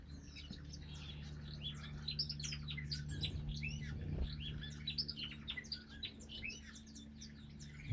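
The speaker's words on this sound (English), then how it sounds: "I can hear some birds being fed there" Small finches such as Moluccan mannikins in an aviary chirp and tweet in a busy overlapping chorus at feeding time, faint and somewhat distant over a low steady hum.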